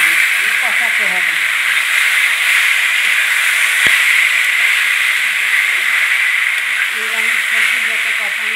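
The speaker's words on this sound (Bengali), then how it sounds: "সবজিটাকে কিন্তু ভালো করে ভাজতে হবে, কষাতে হবে।" Mixed vegetables, Malabar spinach, pumpkin, eggplant and potato, hiss and steam as they fry in a pan, a steady loud sizzle with a voice speaking faintly over it.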